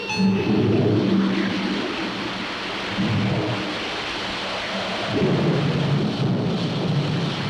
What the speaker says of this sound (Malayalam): മഴയും കാറ്റും കൂടി വരുന്നുണ്ട്